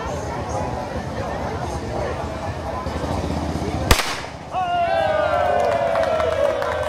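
At a bird-shooting contest during the Bredevoort folk festival, one sharp, loud gunshot cracks midway through a crowd's chatter and talking, followed by a ringing tonal sound and continued voices.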